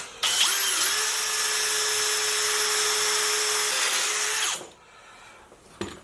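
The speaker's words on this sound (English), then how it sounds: "Now I'm drilling right on through, all the way through actually." Power drill boring through a metal lathe part, a loud steady high-pitched whine held for about four seconds before winding down, followed by quiet and a brief click.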